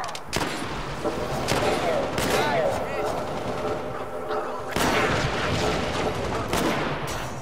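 Turret gunfire in the Halo: Spartan Assault video game, sustained rapid bursts and booms running nearly throughout, loud and close, with other game effects in the mix.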